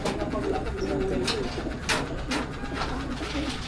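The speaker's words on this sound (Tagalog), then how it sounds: "Ilan lahat ibon?" Pigeons or doves cooing nearby amid a busy, noisy background, with a few sharper bird calls breaking through.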